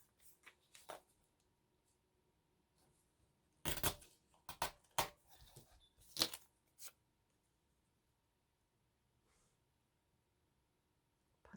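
Scissors cutting paper for a collage, a few quick sharp snips clustered together in the middle, close and quiet against a near-silent background.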